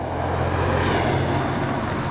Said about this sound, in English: Beautiful Porsche 911 rolling in.